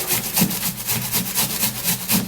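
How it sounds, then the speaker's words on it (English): Onion being grated by hand on a grater, loud rhythmic rasping strokes repeating about every quarter second, close up with no other sound. "so I'm actually going to be grating the onion"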